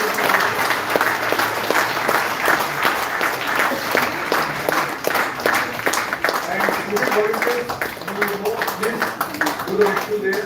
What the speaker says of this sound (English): Give a round of applause for all the students.